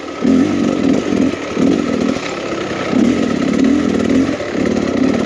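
A 2023 Beta Xtrainer 300 enduro motorcycle's two-stroke engine lugs at low revs, a close, buzzing chug that swells and eases in repeated pulses of throttle.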